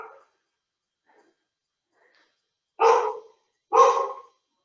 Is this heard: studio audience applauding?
no